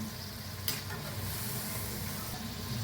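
A crispy snack fries in oil over a very low gas flame, giving a continuous close, even sizzle with a brief stir or clink near the start and no speech.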